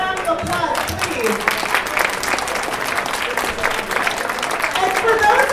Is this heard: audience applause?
yes